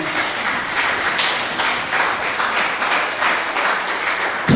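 A church congregation applauds Jesus during a French-language sermon, producing a dense, sustained wash of many hands clapping together at steady loudness throughout.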